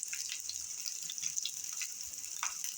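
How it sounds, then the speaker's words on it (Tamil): Crushed garlic and dried chillies sizzle quietly in hot oil, a soft steady hiss dotted with small crackles and pops, faint and fairly distant. "அடுத்து நம்ம நசுக்கி வச்சுருக்க 10 பல் பூண்டு ஆட் பண்ணிக்கோங்க"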